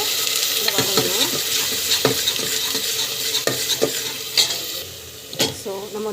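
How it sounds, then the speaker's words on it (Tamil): Ground masala with mustard, cumin and ginger is sautéed in a pan, with a bright, steady sizzle and repeated close scrapes and taps of a spoon against the metal. "நெக்ஸ்ட் வந்து அரைச்சி வச்ச மசாலா வந்து ஆட் பண்ணிவிட்டு இந்த வதங்கணும்."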